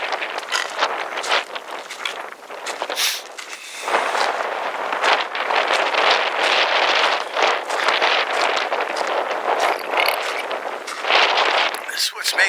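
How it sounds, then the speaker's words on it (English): Desert wind blows at a campsite, a constant broadband rush buffeting the microphone close up for the whole stretch, with gusts swelling and easing. "We got some nice wind blowing, so it's kind of nice."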